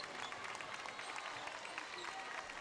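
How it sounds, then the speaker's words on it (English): Fans at a girls' 2A high school basketball final cheer and clap in a sustained, distant-sounding wash of crowd noise under a gym's reverberant hum. "The Melbourne fans on their feet now. They'll cheer for these final 45."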